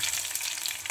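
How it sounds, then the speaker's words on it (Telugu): Crushed garlic hitting hot oil in a pan for a Telugu-style spinach dal tempering, giving a steady, close, bright sizzle that holds for about a second with no talking. "వెల్లుల్లిపాయలు దంచి వేసుకోవాలి."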